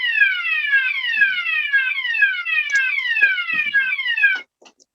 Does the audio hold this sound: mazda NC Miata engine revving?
no